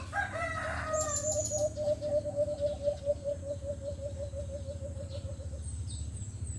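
A rooster crows loudly up close, followed by a long run of rapid repeated bird calls over a steady low rumble, with faint chirps higher up.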